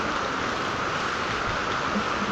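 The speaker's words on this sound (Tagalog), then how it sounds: "Ang lakas ng tubig" Strong floodwater current rushes in front of a house, a continuous loud broadband roar of churning water with no breaks.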